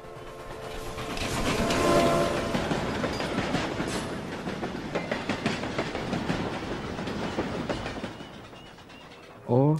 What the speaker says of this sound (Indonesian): Eta sanes kereta patasna. Lain eta mah Cianjuran pabelah kidul.